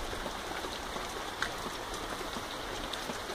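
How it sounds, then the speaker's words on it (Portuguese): Morning rain falls steadily in a dense, even hiss with scattered drops striking surfaces, soft and continuous without voices. "amanheceu assim, com chuva."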